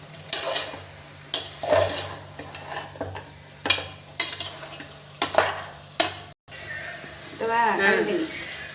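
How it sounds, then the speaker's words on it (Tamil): A spoon scrapes and clinks repeatedly in a pot as spices and salt are stirred into Karaikudi mutton curry, with a faint sizzle underneath and a voice talking near the end. "எல்லாத்தையும் ஒன்று போல கிளறி விட்டுக்கிறாங்க"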